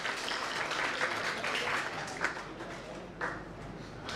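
Moderately faint applause from an audience in an academic hall welcoming a guest speaker, a continuous patter of clapping with a few louder individual claps standing out.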